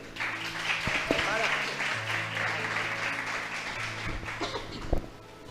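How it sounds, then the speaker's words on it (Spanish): A church congregation applauds the Lord during a Sunday morning service: a wash of clapping from many people runs under a voice and a sustained musical tone, with a few sharper knocks near the end. "Hermano, vamos a aplaudirle al Señor."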